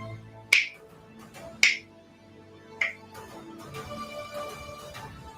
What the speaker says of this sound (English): Do it as I snap my fingers.